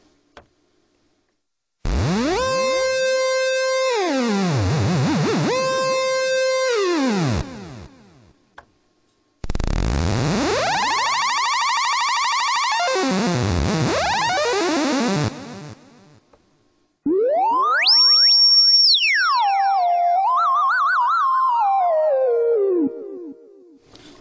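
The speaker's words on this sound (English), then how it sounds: "It becomes a monophonic synth, and you can control the pitch by waving your hand." Monophonic synth tones from a Roland SP-555 sampler played through its D-beam, with pitch sliding up and down as a hand waves over the sensor; three loud sustained phrases separated by short silences, with wobbling, swooping pitch bends.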